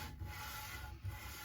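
A guitar nut base is sanded during a PRS Bernie Marsden SE setup, producing a steady, soft, close rubbing hiss with two slightly louder strokes.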